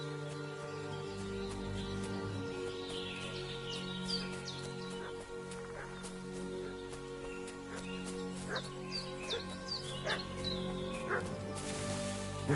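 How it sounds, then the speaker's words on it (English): A dog in the medieval village world of Kingdom Come: Deliverance II barks repeatedly in short yips and whimpers over steady game ambience and background music, with birds and a crow faintly heard. "What's that dog making such a fuss about?"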